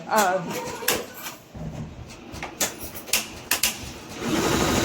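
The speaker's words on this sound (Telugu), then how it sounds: "అది జంపింగ్ చేస్తుందంట నీడిల్ మిషన్." An embroidery needle machine stitching saree blouse designs runs in rapid bursts with pauses between them, a close mechanical clatter, with some speech mixed in.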